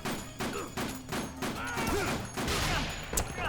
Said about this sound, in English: Essentially, you want to tap the SMG.